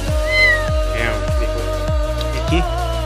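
Newborn Persian odd-eyed kittens meow several times in a row, short, close and fairly loud high-pitched cries, with low thumping handling noise underneath.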